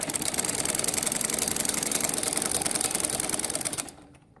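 An electric sewing machine stitching along the edge of a samosa salwar runs in a fast, steady mechanical chatter of needle strokes, close and continuous, then stops abruptly near the end, leaving quiet.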